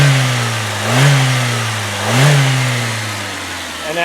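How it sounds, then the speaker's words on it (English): A 1998 Saturn SL1 engine revs twice in quick succession, each rise swelling loudly before settling back to a steady idle hum, close and with no one speaking. "All right, let me rev it up for you"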